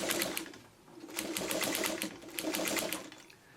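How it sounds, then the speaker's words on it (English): Sewing machine top stitching along the edge of a quilt, running in short bursts of fast rhythmic needle chatter that speed up and ease off, close by and without speech. "I'm just going to top stitch along."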